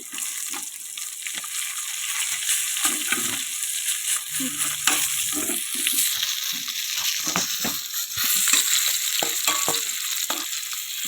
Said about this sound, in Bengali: আমার মাছটা পুরো ভাজা হয়ে গিয়ে দেখতেই পাচ্ছি